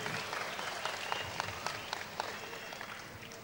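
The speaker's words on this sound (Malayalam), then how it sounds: "ഈ കയ്യടി അദ്ദേഹത്തിനുള്ളതാണ്." Audience applause at a cultural evening for a political campaign in Dharmadam, dense continuous clapping from a crowd, fairly distant and steady with a few sharper claps standing out.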